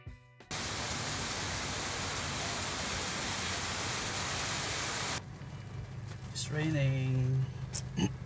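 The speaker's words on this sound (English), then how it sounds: "it's raining right now" Steady rain in Klang, Malaysia hisses loudly for several seconds, then drops away as voices talk over a softer background.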